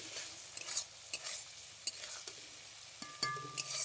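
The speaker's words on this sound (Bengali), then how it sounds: "বেশ কিছুক্ষণ টমেটোটা আমি মশলার মধ্যে কষিয়ে নিয়েছি।" Tomato cooking down in frying spice paste for a rohu fish curry, with a soft sizzle under repeated scraping stirs of a spoon in the pan, faint and close, no voices.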